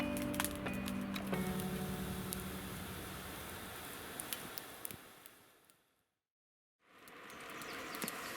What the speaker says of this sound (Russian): погода очень плохая, постоянно идет дождь